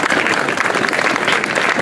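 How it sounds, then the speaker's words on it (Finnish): A crowd at a village market event in the Lahti harbour claps for a prize-winning village, a loud, dense and steady round of applause that stays even from start to finish. "Annetaan vielä kerran oikein raikuvat aplodit."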